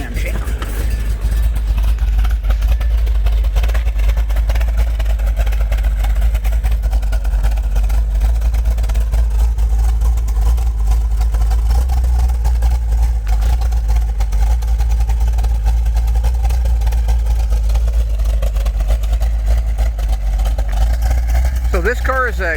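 A 1970 Plymouth 'Cuda with a 440 V8 and a lumpy cam idles steadily for a long stretch, a loud, low, continuous rumble close by with no break.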